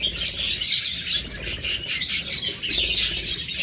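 A breeding pair of pet birds chirp continuously with rapid, high, overlapping tweets, close and fairly loud with no voices.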